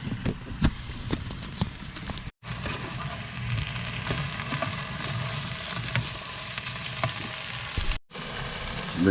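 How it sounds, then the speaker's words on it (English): Beef browning in a pan beside a cup of coffee in the Texas Hill Country, a steady close crackling sizzle running continuously with a few brief dropouts. "Browning up some beef and a cup of coffee."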